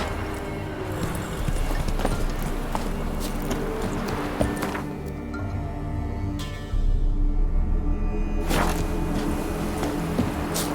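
Roach the horse galloping in The Witcher 3, rapid rhythmic hoofbeats over a rumbling game soundscape, steady and close throughout with brief shifts in the background.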